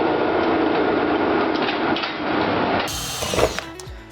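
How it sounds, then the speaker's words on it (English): A power drill boring into wood with a dull bit, a rough grinding whir that strains steadily and then shifts to a harsher scraping as the bit bites and stalls, close and loud, ending with a brief clatter. "I really need new drill bits."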